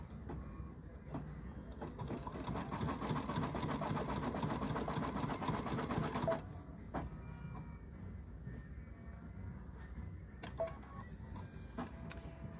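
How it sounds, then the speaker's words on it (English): A sewing machine stitching a satin stitch on a Halloween coaster, a fast, even mechanical whir of rapid needle strokes for about six seconds, then stopping, followed by quieter scattered clicks and handling noise. "So this is the satin stitch."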